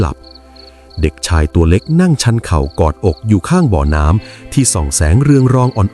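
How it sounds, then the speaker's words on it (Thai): Rhythmic cricket chirping fills a dark forest at night, steady and continuous beneath a narrator's voice telling a story over it. "เสียงจิ้งหรีดร้อง"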